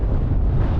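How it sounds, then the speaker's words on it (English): Strong gusty wind on a stormy exposed hillside roars continuously, loud and close as it buffets the microphone with a deep rumbling rush. "the wind is around 25 miles an hour, gusting up to around 45"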